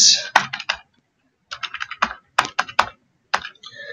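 Bursts of quick, crisp key clicks from typing an address on a computer keyboard, close and clear, with a short pause between runs of keystrokes.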